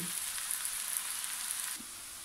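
Mushrooms and potatoes frying in a pan for a tortilla, a dense bright hissing sizzle that holds steady and then softens near the end, with no voices.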